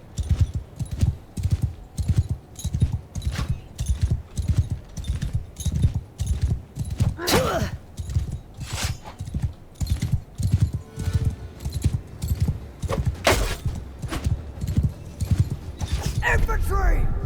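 Galloping horse in the video game Bannerlord, a steady rapid clip-clop of hooves running the whole time, with occasional creaks and a brief whinny-like cry, loud and close.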